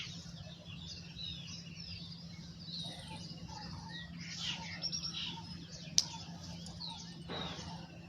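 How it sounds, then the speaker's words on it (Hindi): Faint birds chirp and twitter in scattered short calls over a steady low hum, with one sharp click partway through. "पक्षियों के कलरव को आत्मसात करेंगे, उनकी सुमधुर ध्वनि को महसूस करेंगे।"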